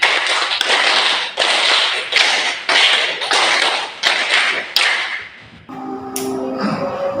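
Rhythmic hand claps from a group playing a classroom clapping game, several bursts in a patterned sequence with brief pauses, close and loud, ending with a short tonal sound after the claps stop.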